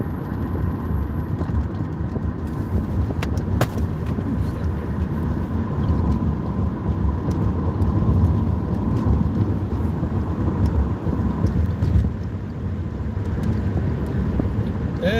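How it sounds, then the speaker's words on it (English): A steady car interior drone while driving toward a manufacturing shop, with constant engine and road rumble plus wind noise, no speech. "And right now, I'm just driving off towards the shop."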